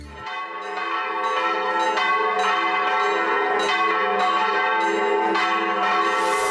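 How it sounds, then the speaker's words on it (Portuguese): The largest church bell in Minas Gerais, at the Church of Nossa Senhora do Carmo in Ouro Preto, rings out in repeated deep, resonant strikes, with each toll swelling and ringing on over the one before. "onde temos um dos maiores sinos do Brasil."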